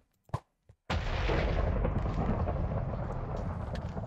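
A lightning knife in Minecraft Aether calls down a lightning strike. Two faint clicks come first, then a sudden loud thunderous crash that rumbles on, heavy and close.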